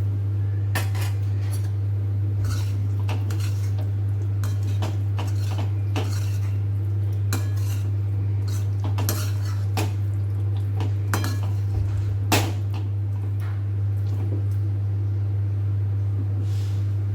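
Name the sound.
stirring spices into bhungda bataka in pan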